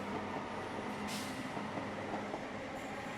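A train at St Thomas Mount station in Chennai gives a steady, dense rumble with a brief hiss partway through, continuous and fairly close.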